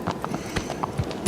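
Horse hooves clattering up stone stairs in the video game Shadow of the Colossus, a quick run of sharp, irregular clip-clop steps close and loud, alone without talk.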